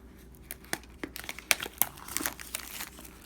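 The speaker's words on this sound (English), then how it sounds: "Okay, so we just score the plastic." A blade scores and slices open brand-new plastic packaging around a P&S Legend coating, giving a string of close, dry crinkles and short tearing crackles that come in uneven bursts.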